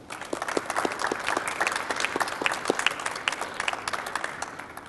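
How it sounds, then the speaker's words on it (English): Scattered clapping from a crowd at a mayor's renewable energy announcement, with individual claps distinct over a continuous patter for several seconds. "Let's give them a round of applause"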